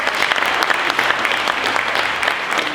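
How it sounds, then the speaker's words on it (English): Audience applause fills a room at a mayors breakfast in South Pasadena, a steady dense wash of many hands clapping, loud and continuous without a break. "Give her a round of applause."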